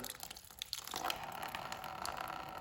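Water gushes and splashes steadily out of the rear differential of a 1946 Willys Jeep CJ2A after the cover pops off, a continuous noisy draining sound with no talking.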